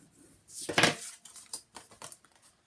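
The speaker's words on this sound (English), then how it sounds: "So you're now going to fold and burnish these well." Paper corners of an autumn memory book being folded and burnished: a few short, dry scraping strokes up close, one louder sweep followed by several lighter ones, with no talking.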